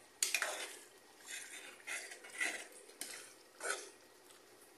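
Cumin goes into a pan while a green chilli tomato curry cooks, giving several light clinks and scrapes of a utensil against the pan over a faint sizzle, with no voices.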